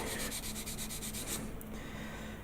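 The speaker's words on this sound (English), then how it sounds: "Let's just give that a quick sand." Quick, steady rubbing of a sanding stick across a plastic Gundam Sazabi Master Grade 1/100 model kit part, a close, continuous dry scratching with rhythmic strokes that fade into softer rubbing.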